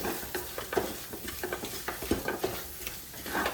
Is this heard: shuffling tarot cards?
no